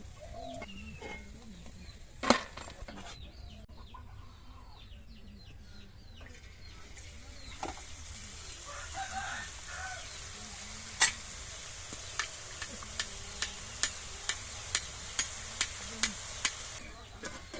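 Boondi, small drops of batter, fry in hot oil with a soft, steady sizzle, while a utensil lightly taps the pan several times in a regular rhythm; faint birds call in the background.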